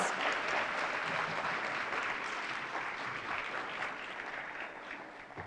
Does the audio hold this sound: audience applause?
yes